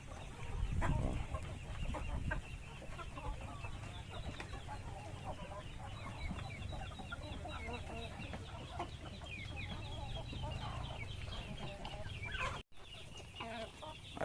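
Small wild duck visiting a backyard poultry pen, its calls mixed among clucking chickens and farm fowl in steady, busy chatter throughout, with a brief dropout near the end.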